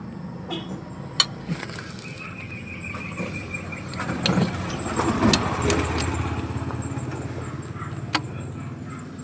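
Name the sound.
Hyundai Porter D4CB diesel engine cranking after two years idle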